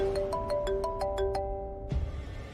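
Phone ringtone playing a short melodic sequence of bright chiming tones, fairly faint, followed by a soft thud as it stops.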